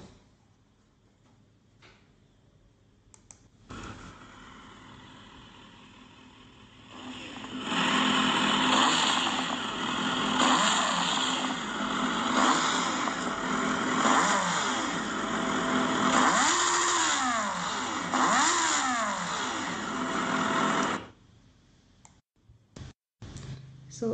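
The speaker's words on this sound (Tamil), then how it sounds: "Kawasaki 2024 Z900ஓட throttle sound" A 2024 Kawasaki Z900 motorcycle idles close by, then is revved for about fifteen seconds with repeated sharp throttle blips rising and falling near the end before it settles back to idle.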